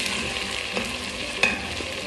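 Food fries and sizzles in a pan, a steady close crackling hiss with a light stir or clink partway through, no voices.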